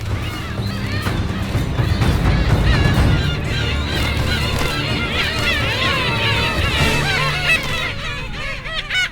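Black-tailed gulls fight among closely packed nests in a seabird colony, with loud, harsh overlapping squawks and honking calls that continue almost without a break. Wings flap and the birds scuffle nearby throughout.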